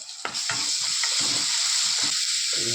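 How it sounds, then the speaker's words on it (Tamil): Ginger and garlic sauté in hot oil in a pan, a loud, close, steady sizzle filling the whole stretch, with repeated soft stirring scrapes breaking through at a fairly regular pace and no voices. "பச்சை வாசம் போகிற வரைக்கும் நம்ம வதக்கணும்."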